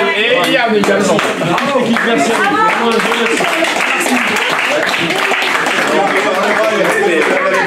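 Crowd applause at a winter triathlon award ceremony in Isola 2000, dense and sustained clapping from a gathered audience, with someone speaking briefly over it.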